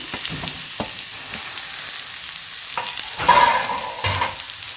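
Onion and sprouted moth beans being stirred in a hot pan, with a steady sizzle of frying under repeated scraping strokes of a spoon, close and moderately loud, no voices.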